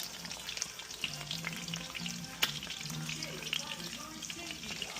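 Food fries in avocado oil in a home kitchen, a busy crackling sizzle throughout with occasional stirring clinks and a low voice murmuring in the background.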